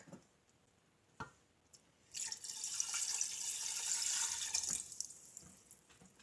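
Chicken stock, a quart of it, poured into a pot of soup with diced tomatoes: a few faint taps, then a steady splashing, gurgling pour lasting a few seconds before tapering off.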